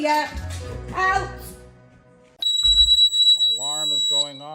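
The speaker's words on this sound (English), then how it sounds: "Alarm is going off." A house alarm cuts in abruptly halfway through with a steady, piercing electronic tone that holds to the end, after excited talking and alongside a wavering, howl-like voice.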